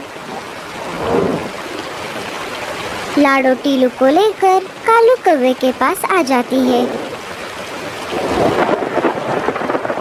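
Steady rain hiss fills the background, with a voice talking over it in the middle and rumbling gusts swelling at the start and end.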